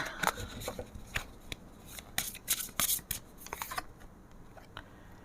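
Tarot cards are shuffled and drawn close by in quick papery riffles and rubbing slides that fade near the end, with no talking.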